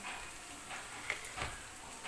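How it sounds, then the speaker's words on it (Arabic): Soft crackling sizzle of onions and garlic sautéing in a pan with tomato sauce, steady with a few scraping stir sounds, fairly quiet and close. "شوح البصل والثوم كده اهو"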